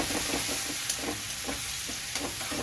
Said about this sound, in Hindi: उतना ही मैंने जिंजर चॉप लिया है, उसको डालेंगे और इसे भून लेंगे